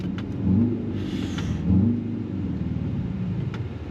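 A 2025 Mercedes-AMG S 63 engine revs on throttle with a steady low rumble, swelling in two louder pulls heard from close by, alone without talk.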